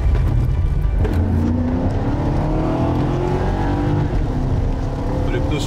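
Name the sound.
Mercedes 500SL car engine running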